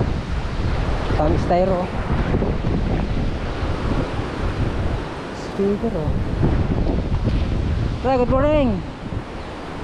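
Strong typhoon wind buffets the microphone with constant heavy roaring and gusts throughout, while people talk intermittently over it in raised voices.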